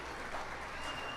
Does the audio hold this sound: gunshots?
no